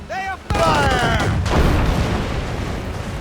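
Naval cannons firing from sailing ships in Assassin's Creed Rogue: a shouted command, then a heavy booming volley with rumbling echoes and crackling blasts rolling on beneath battle noise.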